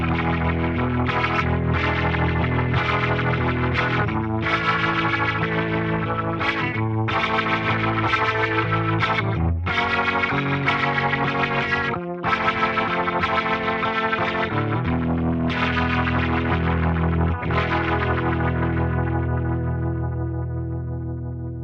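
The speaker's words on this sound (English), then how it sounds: "here's what the Rotary Speaker 122 sounds like at default setting" Guitar played through a Fender Tone Master Pro with its Rotary Speaker 122 effect at default settings, giving a loud, continuous swirling chorus-like tone over sustained chords and picked notes, with no talking.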